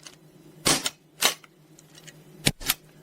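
A Glock 19X blowback airgun fires several sharp, close cracks with slide clatter, spaced irregularly: two shots about half a second apart, then a quick pair near the end, over a quiet background.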